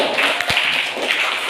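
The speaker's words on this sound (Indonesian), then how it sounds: "tepuk tangan untuk kita semuanya dulu" An audience at a leadership and rhetoric talk claps their hands in a brief burst of close, irregular clapping with a single sharper thump partway through.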